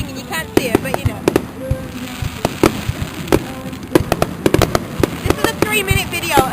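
Summer fireworks go off in a steady run of sharp bangs and crackling pops, some close and loud, others lighter, while people chat nearby underneath.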